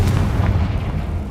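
Confringo explosion spell in a Harry Potter video game, a deep, rumbling boom that sounds loud and close, with a low roar that fills the short moment.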